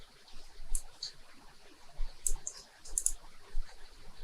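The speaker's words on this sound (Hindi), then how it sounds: "इसको राइट क्लिक करते हैं" A computer mouse clicks while someone works in CorelDRAW. A handful of faint, sharp clicks come at irregular intervals over a quiet background.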